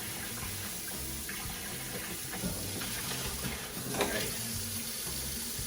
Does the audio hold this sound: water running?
yes